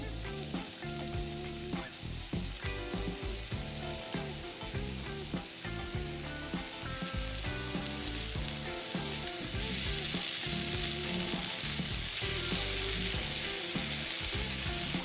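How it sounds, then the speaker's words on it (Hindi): Spinach frying in a little hot oil in a pan, a continuous crackling sizzle with rapid pops and scraping stir clicks throughout, growing slightly brighter and busier toward the end. "अब एक पैन में थोड़ा सा ऑयल गरम करें। अब इसमें पालक डालें।"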